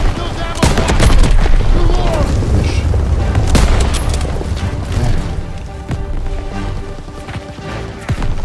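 A grenade blast amid a World War II firefight in Call of Duty: WWII, booming impacts and rattling gunfire layered in a dense, continuous battle roar, close and loud, with voices speaking over it.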